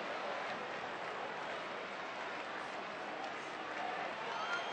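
A baseball crowd at a game in Colorado murmurs and rises into a broad, distant ooh, a steady wash of many voices filling the stadium.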